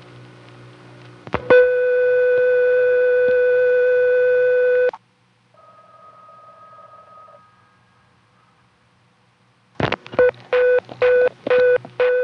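On a New York telephone test line, steady harmonic tones hold for a few seconds and then drop to a quieter tone and near silence, before a quick run of short, evenly spaced dial beeps.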